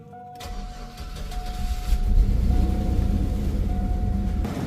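A GMC Jimmy truck engine, just after a wiring repair, cranks briefly and catches, then settles into a steady, loud rumbling idle close by, with no talk over it.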